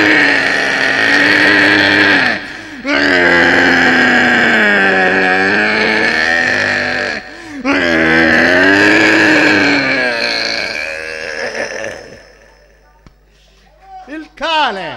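A voice imitates a pig being slaughtered, letting out long, loud, wavering squeals in two extended bursts, then tapering into shorter strained cries.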